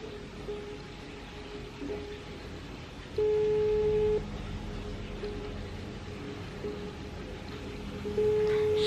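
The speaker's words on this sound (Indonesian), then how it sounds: "Suara berderingnya masih ada ya guys ya." An unanswered video call keeps ringing in short, repeated tonal beeps that sound faint and steady over a quiet room, with no talk.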